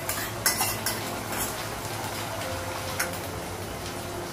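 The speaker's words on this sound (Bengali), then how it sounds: "পেঁয়াজটা ভাজা হয়ে গেছে, মশলাটা লাগাবো। এটা হচ্ছে আদা বাটা আর হচ্ছে লঙ্কা বাটা লাগাবো।" Onions fry in a pan as ginger and chili paste go in, with a faint sizzle beneath a few light metallic clinks and scrapes of a stirring spoon against the pan, and no one talking.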